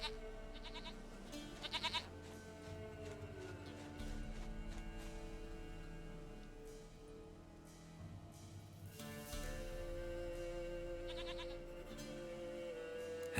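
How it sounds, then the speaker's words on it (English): Goat bleating in The Witcher 3 video game, several repeated bleats over a steady musical game soundtrack, fairly close and clear. "Goat of mine, dearest,"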